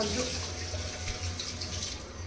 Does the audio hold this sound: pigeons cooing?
no